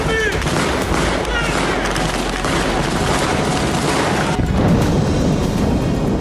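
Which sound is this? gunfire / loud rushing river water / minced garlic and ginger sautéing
gunfire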